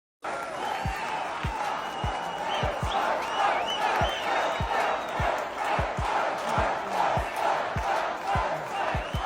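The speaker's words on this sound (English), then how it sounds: "Here's the crowd for Donald Trump's rally in North Carolina as well." A large crowd at a Donald Trump rally in North Carolina, a continuous dense roar of voices with repeated sharp thumps and bangs punctuating it throughout.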